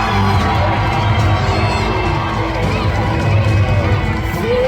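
A loud crowd at a castle knight tournament cheers and shouts continuously, children's voices and whoops mixed into a dense roar that holds steady throughout.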